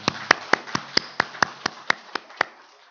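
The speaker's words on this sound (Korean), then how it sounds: "박수하겠습니다." Church congregation at a Sunday morning service clapping in about a dozen distinct, evenly spaced sharp claps, fairly close and clear with no talk over them.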